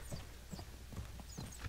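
Hooves of a galloping horse in the Mount and Blade Warband video game give a quick, regular clip-clop of soft thuds, faint and steady under a low ambient bed, with no talking.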